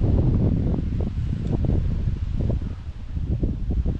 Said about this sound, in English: Wind is really kicking up.